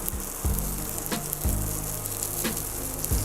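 A fish fillet fries in a little oil in a hot pan, making a loud, close, crackling sizzle with rhythmic clatters about once a second as the pan is moved, and no voice.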